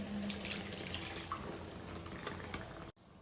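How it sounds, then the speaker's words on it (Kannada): Water pours steadily into a pot of chicken for about three seconds, a soft continuous splash that stops abruptly, leaving quiet. "ಅಷ್ಟೇ ನೀರನ್ನೇ ಹಾಕೋತಾ ಇದ್ದೀನಿ"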